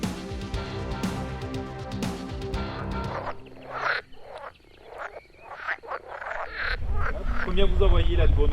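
Frogs croaking at a pond, repeated croaks close by with people talking in French over and between them, and rustling noise toward the end.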